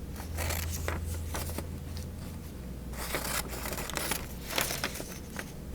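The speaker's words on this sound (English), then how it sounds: "You're going to carefully cut that" Scissors snip through paper in a series of close, crisp cuts with rustling and crinkling between strokes.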